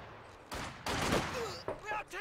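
Conscript squads in the Company of Heroes 2 video game fire rifles in a quick scattered volley of sharp cracks, partly under a commentator's voice.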